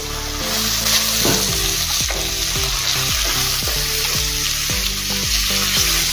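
Spices with turmeric and coriander powder fry for chana dal pulao, a loud, steady sizzle alongside rhythmic scraping stirs of a spoon against the pan, with a faint background hum.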